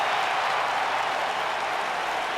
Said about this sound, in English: Do you hear this Albany crowd?